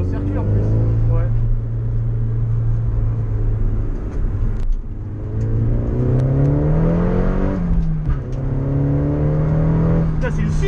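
A Nissan S15 with an SR20DET engine drones loudly on a race circuit, rising and falling in pitch as it revs and shifts, with people talking over it.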